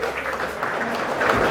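A short burst of steady audience applause at a tearful surprise homecoming gathering in Hoktemberyan, a dense wash of clapping with no gaps.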